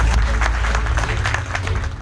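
Applause from the audience at a state-level community conference in Kamalpur Navtoli, a dense, steady roar of clapping hands throughout, close and loud, with a low hum underneath.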